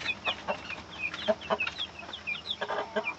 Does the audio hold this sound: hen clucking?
yes